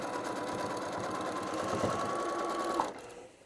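A sewing machine steadily quilts cotton fabric with no fusible backing, a continuous close whirring hum running for about three seconds before stopping abruptly near the end.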